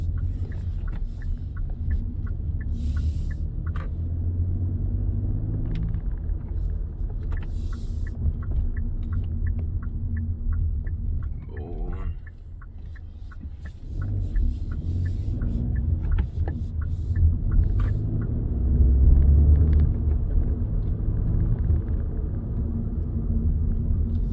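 A Hyundai Bayon compact car moves slowly along narrow streets, its engine a steady low rumble with faint ticking, close and continuous with no voices.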